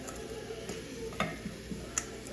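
Vegetables are stirred into a sautéing pan, a low steady sizzle with a few light clicks of spoon on pan scattered through the short stretch. No voices.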